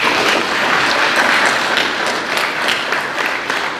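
Loud applause fills a boxing press conference room, dense continuous clapping close to the microphone with a few sharper nearby claps, no talk over it.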